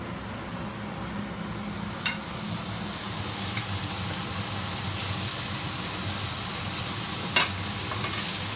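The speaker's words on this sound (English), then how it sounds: "to the same pan, we're gonna go ahead and add in our bacon" Bacon sizzling in a pan used for a chicken in white wine cream sauce, a steady close crackle and hiss throughout with a few sharper pops, no talking.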